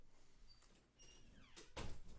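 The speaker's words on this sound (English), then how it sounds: "I need to close this door." A door is shut indoors in a couple of soft knocks and a sharper final thud and latch near the end, fairly quiet, with no talking.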